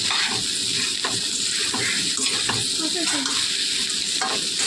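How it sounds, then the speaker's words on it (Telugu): Egg fried rice stir-fried in a pan over high flame, a loud continuous sizzle with a steady hiss throughout and faint scraping of the spatula underneath. "కొంచెం బాగా హై ఫ్లేమ్లోనే బాగా వేయిస్తే బాగుంటుంది."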